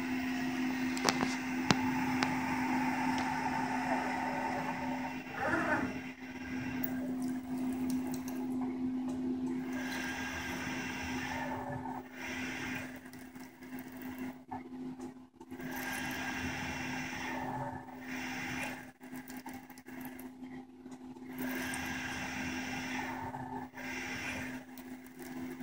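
A CNC machine rigid taps five holes, a steady mechanical whir with a constant tonal hum and repeated spindle cycles rising and falling, close and moderately loud with no talk.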